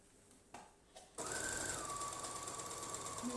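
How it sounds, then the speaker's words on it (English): A sewing machine stitching thick golf pants starts up after a second of quiet, then runs as a fast, steady, close mechanical whir with no talk. "Sewing some golf pants."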